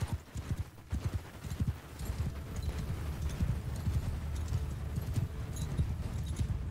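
Horses gallop across a battlefield in the video game Mount & Blade 2 Bannerlord, a dense rolling clatter of many hooves at steady volume, with a faint whinny among them.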